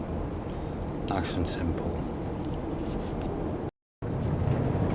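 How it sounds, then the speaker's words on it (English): Storm wind and rain batter a workshop in a constant noisy roar throughout, with someone briefly speaking over it early on. "apologies for all the crazy wind noise and whatnot in the background. We've got a storm battering the hell out of the workshop."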